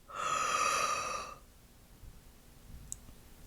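A deep yawn during a morning vocal warm-up, a loud breathy, voiced stretch of about a second and a half that fades into quiet room noise, followed by a faint click.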